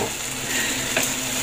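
A pan of sargusar being stirred while it fries, a close, dense sizzle with a soft scrape of the utensil about two-thirds through, brief and continuous with no talking.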